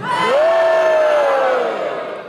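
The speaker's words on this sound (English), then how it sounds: "Are you booing at me or them?" A Halloween event crowd gives a loud, sustained boo that swells and then slowly falls away, many voices together close by.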